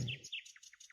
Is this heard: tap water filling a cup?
no